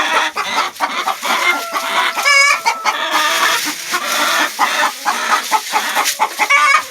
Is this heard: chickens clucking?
yes